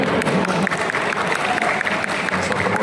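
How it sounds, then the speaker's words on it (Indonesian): An audience at a talk with an Indonesian presidential hopeful breaks into applause, a dense wash of many clapping hands that goes on steadily, with a few voices faintly mixed in. "Masuk tepuk tangan."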